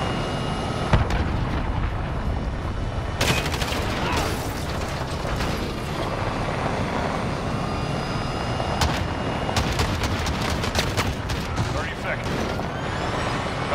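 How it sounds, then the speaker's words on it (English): A video game missile strike plays out as a dense, continuous barrage of explosions and gunfire. Sharp blasts and mechanical clatter rise in clusters over a constant roar of battle. "Allied crew missile on the way."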